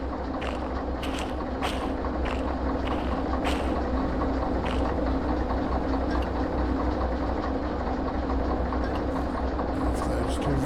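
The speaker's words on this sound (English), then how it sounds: "so now we can go ahead and decouple the train." Railway cars are being uncoupled in the train simulator game Derail Valley: a constant low rumble of idling rolling stock with a series of sharp metallic clicks and clanks scattered over it.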